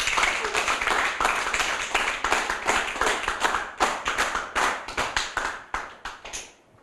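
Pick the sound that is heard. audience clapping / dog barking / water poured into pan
audience clapping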